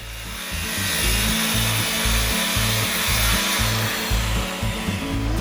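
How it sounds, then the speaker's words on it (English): A circular saw with a sharp blade cuts through the end of a wooden board in a small garage workshop. The cut is loud and close, a steady whine with a rhythmic low pulsing as the blade bites, and no talk. "then I just use a nice sharp blade with my circular saw to cut both ends to a finished length of 38 inches"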